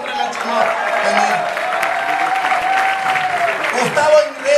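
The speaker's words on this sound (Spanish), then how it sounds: "un aplauso para la Chimó" A theatre audience at a play's premiere applauds in a dense, steady wash of clapping that stays loud throughout. Scattered cheers and voices rise over it near the end.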